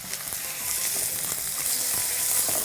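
Onion pieces fry in oil, giving a continuous bright sizzle that grows slightly louder, with faint stirring taps underneath.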